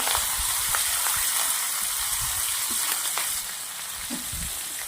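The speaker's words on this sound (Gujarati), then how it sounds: "મરચાં તેલના અંદર આપણે શેકવાના છે." Chopped red and green chillies fry in hot oil with mustard seeds, cumin and asafoetida, making a steady, moderately quiet sizzling hiss with a few soft pops and stirring sounds.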